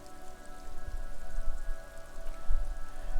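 Rain falling in the video game Disco Elysium, a steady soft patter of drops on surfaces over a low ambient hum, with gentle swells in loudness and no voices.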